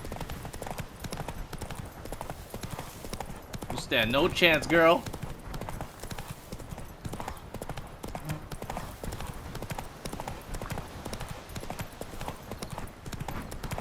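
Horse hooves clip-clop steadily throughout a galloping race in The Witcher 3, with a brief whinny near the middle and someone talking over the game sounds.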